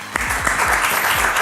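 Studio audience clapping during a team game show, a dense continuous burst of applause from many hands, loud and close throughout.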